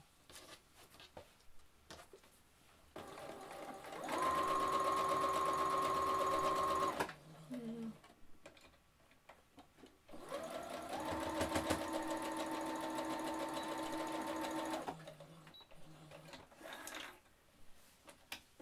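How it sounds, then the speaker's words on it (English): A sewing machine stitches straight across the bottom of a fabric wine bag in two bursts of steady whirring, each about three to five seconds, close up, with quiet handling sounds and a voice between runs. "you're going to sew straight across here"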